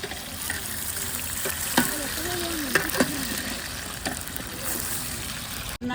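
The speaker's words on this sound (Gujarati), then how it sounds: "જો આપણે નાખી દીધા છે તેલમાં રીંગણા. હવે આ રીંગણાને શું કરવાનું? તળવાના." Eggplant frying in oil at an outdoor family gathering, a steady crackling sizzle with occasional louder pops and stirring, while voices talk in the background.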